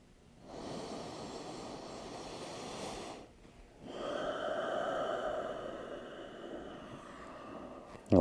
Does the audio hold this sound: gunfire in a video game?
no